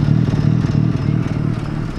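A Mazda RX-7 FD rotary engine, running on premix and being diagnosed for a smoke problem, idles loud and close with a steady, lumpy low drone throughout.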